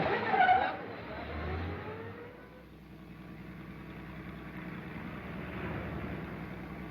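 Car engine in a 1937 chase, a steady low drone with a brief louder burst at the start, then a continuous rumble at moderate level, with no one talking.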